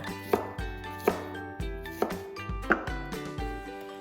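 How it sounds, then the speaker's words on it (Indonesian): A knife cutting pear into pieces on a board for blending into a napa cabbage kimchi paste; about seven crisp, evenly spaced chops roughly every 0.7 seconds, with soft tonal music playing underneath. "Kita akan potong-potong juga buah pirnya supaya mudah untuk di blender."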